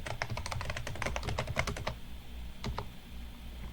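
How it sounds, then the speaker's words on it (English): Rapid key presses on a computer keyboard as a password is typed, a quick run of close clicks that slows to a few separate taps before stopping. "But just go ahead and type it anyways"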